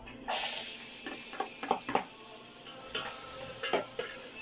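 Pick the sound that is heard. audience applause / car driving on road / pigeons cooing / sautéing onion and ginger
sautéing onion and ginger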